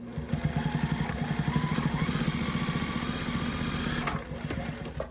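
A sewing machine stitches binding onto the back of a quilt, its motor running with a steady, fast mechanical pulse that stops briefly near the end before a short restart; no talking.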